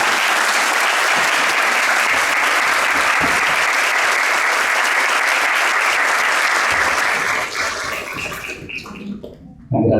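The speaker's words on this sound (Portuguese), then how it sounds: "E muito gentilmente pedir uma salva de palmas para eles." Sustained, loud applause from an audience at a public opening ceremony honouring the organizing team, steady for about seven seconds before thinning out and fading near the end.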